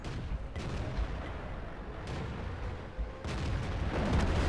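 Heavy booming cannon fire from a tier VII auto-loader tank in the World of Tanks game, with several loud deep blasts spaced a second or so apart over a rumbling battle background, no voices.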